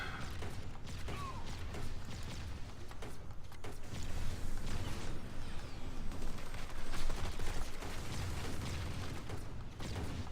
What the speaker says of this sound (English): Soften them up with the grenades.